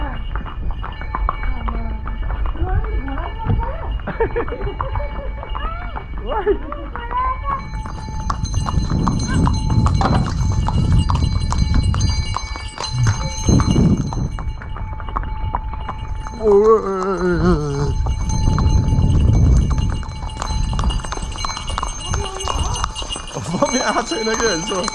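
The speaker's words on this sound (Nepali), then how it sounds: "मम्मीको घोडा कति राम्रो रे" Horse hooves clip-clop at a steady walking pace along the mountain trail to Muktinath, close and continuous, while people talk over them and a faint bell rings now and then.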